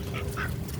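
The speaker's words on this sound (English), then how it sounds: "right now I'm going to give to the ducks because, they look cute and hungry" Ducks quack in a couple of short nasal calls at close range while being fed beside a garden mulching project, over a steady outdoor background.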